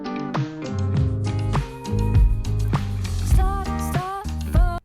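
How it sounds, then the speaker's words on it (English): The GarageBand intro to a track: full-band chords under a reversed cymbal swell as the treble gradually opens up, giving a fade-in feel. Loud, busy and continuous, with no voice. "there's also a reversed cymbal on there that makes it sound like the track sort of fades in"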